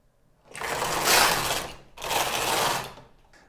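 A Knittax knitting machine carriage is pushed across the needle bed to knit a row of main yarn, two close, loud swishing mechanical passes back and forth separated by a brief pause.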